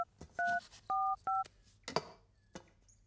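Telephone keypad tones beep in a film scene, with three or four distinct dialing beeps in quick succession followed by a few soft clicks and handling noises.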